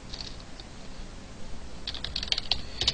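Keys tap on a computer keyboard while C++ code is typed, soft scattered keystrokes at first, then a quicker close cluster of clicks.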